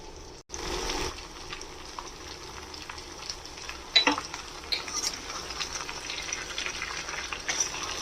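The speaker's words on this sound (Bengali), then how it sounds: "সব সবজিগুলো দিয়ে দেবো" Mixed vegetables for a dhaba-style sabzi hit a hot pan with a brief burst, then settle into a steady close sizzle and crackle of frying, with occasional clinks, and no voices.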